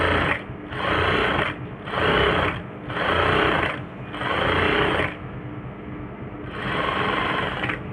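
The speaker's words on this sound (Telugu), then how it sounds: "మామూలు మిషన్ మీద అయితే" A regular sewing machine stitches a garment neck in several bursts of steady whirring, loud and close, separated by short pauses, with no talking.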